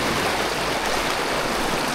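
River current flowing steadily on a fly-fishing stretch for chub, a constant broadband rush of water, close and unbroken throughout.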